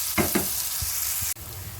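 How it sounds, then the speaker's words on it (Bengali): Onions fry in a pan for a cabbage and fish head dish, with a steady close sizzle and a few soft stirring knocks. There is no speech. "এবার পেঁয়াজটা একটু লাল লাল করে ভেজে নিতে হবে"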